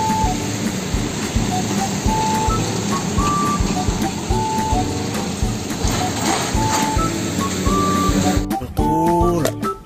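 A toy Tronton tow truck gives off a steady run of repeated electronic beeps over a constant mechanical whir, with a sudden burst of louder, shifting tones near the end.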